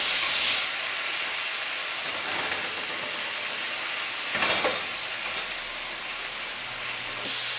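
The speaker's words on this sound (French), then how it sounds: "On laisse fondre le beurre et on rajoute les lanières de bœuf." Strips of beef frying in melted butter in a hot cast-iron pan give a steady, bright hiss that fills the whole stretch, with a brief louder sputter midway.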